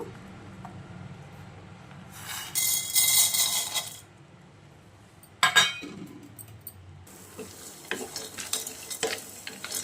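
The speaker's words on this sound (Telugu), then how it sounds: "ఆయిల్ వేడైన తర్వాత ఇవన్నీ వేసుకొని వేయించుకుందాము" Ingredients for a stuffed baby brinjal spice dish fry in a spoonful of hot oil, with bursts of loud crackling sizzle between quieter stretches and occasional clinks of a spoon against the pan, close up.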